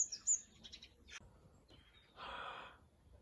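Garden bird wings thrumming in a short, close whirring burst, preceded by a few faint high chirps.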